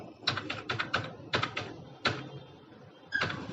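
Computer keyboard typing as an Aadhaar card number is entered into an online JEE Main application form: quiet clusters of quick key clicks with pauses between, close up and alone.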